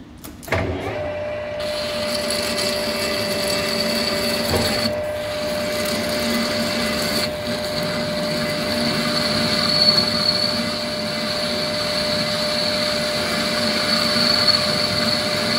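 A machine cuts away old barrel material from a road milling machine's hydraulic cylinder flange, a steady close whirring drone with a faint high whine, after a few sharp knocks at the start.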